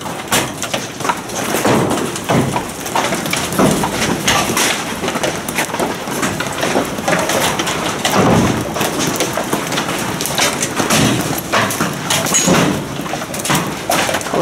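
Large hailstones pelt a roof during an unusual hailstorm in Yuzhnoukrainsk, a dense, continuous clatter of sharp impacts that stays loud and steady throughout, with no talk.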